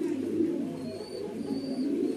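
A large male racing pigeon coos steadily up close, with soft repeated low throaty calls over faint background noise.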